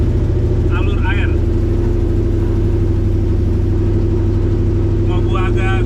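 A tubular Ultra4-style off-road UTV drives through a water channel, its engine a steady, close, low rumble with a voice speaking briefly near the start and again near the end.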